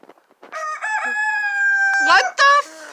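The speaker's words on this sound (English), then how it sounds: "Look at that chicken." A rooster crows loudly and close, one long harmonic cock-a-doodle-doo followed by a shorter second call, with faint clucks before it.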